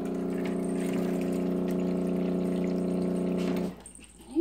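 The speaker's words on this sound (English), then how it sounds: "let's get you some fresh water" Fresh water pours steadily into a pet chinchilla's water container at close range, a loud continuous stream for several seconds that then stops abruptly.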